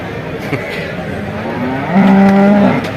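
Cattle at the Vaniyamkulam livestock market moo once, loud and close, a long low bellow over constant crowd murmur.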